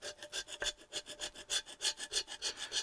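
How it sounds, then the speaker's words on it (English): A gasket scraper works quickly across the aluminium cylinder head of a 1978 Reliant Kitten DL engine, making fast, even rasping strokes about five per second, quiet and close with no talk. "I'm just going to go over the cylinder head, give it a quick scrape, make sure it's as clean as I can get it."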